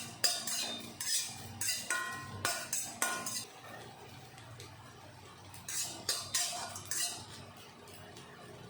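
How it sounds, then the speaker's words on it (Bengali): Cumin, bay leaf and dry chillies are dry-roasted in a hot wok, with repeated close metallic clinks and scrapes of a spatula stirring in rhythmic bursts over a faint background hiss, no voices. "গরম কড়াইতে জিরা, একটু তেজপাতা আর শুকনো লঙ্কা দিয়ে আমি ভেজে নেব।"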